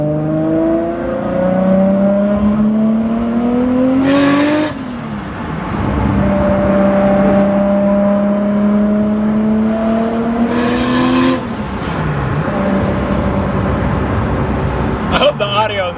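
A single-turbo Nissan Skyline R32 GT-R driven along a road in Okinawa, its engine revving up through gears in long rising sweeps with turbo whoosh between shifts, loud and close from inside the car, with a voice speaking over it.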